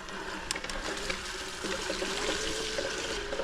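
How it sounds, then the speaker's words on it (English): Mountain bike wheels churn through water and mud on a race course, a steady wet sloshing and trickling that runs continuously and fairly close for a few seconds, with no talk over it. "Oh, the water and mud on a bicycle."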